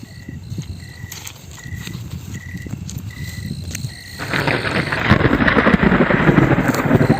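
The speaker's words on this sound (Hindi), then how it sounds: "लेकिन उस रात अचानक बारिश शुरू हो गई।" Heavy rain in a horror story begins as a soft patter with a repeating chirp above it, then swells into a loud, dense hiss of downpour for the final seconds.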